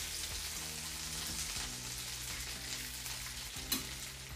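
Meat sizzles and fries in butter in a pan, a soft steady crackle with faint stirring knocks and a small clatter near the end.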